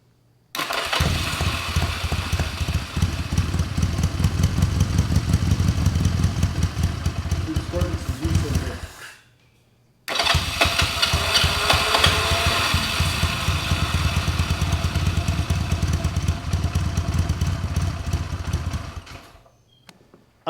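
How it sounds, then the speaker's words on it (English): A 1981 Honda CM200T TwinStar motorcycle engine runs in two stretches, a steady, rapid putter close by with a brief silent gap where it stops and restarts, under occasional talk. "that sounds like a running motorcycle"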